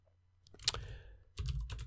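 Typing on a computer keyboard during a coding tutorial, with quick clusters of close, crisp key clicks separated by a short pause.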